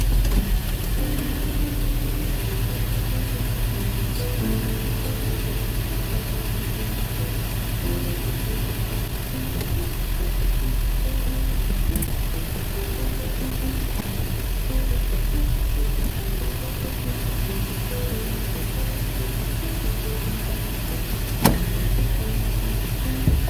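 A Land Rover LR3 engine runs steadily at idle, a dense low rumble heard up close while the vehicle is put through its gears, with a faint click near the end.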